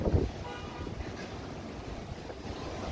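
Strong wind in a rainstorm in Phnom Penh rushes in a steady, fairly faint roar, with an early buffeting gust against the microphone.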